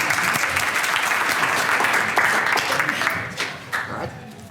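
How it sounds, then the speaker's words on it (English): A live audience applauds warmly after a lecture, steady dense clapping filling the room for several seconds before thinning and tapering off near the end. "we owe him a warm round of applause for his talk"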